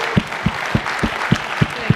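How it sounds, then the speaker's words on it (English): An audience applauds former NFL linebacker Dhani Jones at an entrepreneurship talk, with evenly spaced, distinct claps that stay moderately loud and steady throughout. "let's have a round of applause for Dhani"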